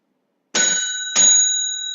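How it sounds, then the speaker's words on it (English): A bell struck twice in quick succession as a timing test at a debate, bright metallic rings with the second left sustaining, loud and close with no talk over it. "Can I test the bell, please?"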